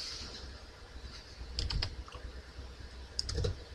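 Bursts of computer keyboard typing during an Illustrator text-tool lesson, two short clusters of quick clicks over a low background hum, fairly close and quiet.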